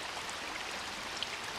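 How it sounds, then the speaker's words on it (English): Flowing water in the survival video game The Forest makes a faint, steady hiss with a soft trickling texture, continuous and alone. "I'm sorry if you guys are just hearing water."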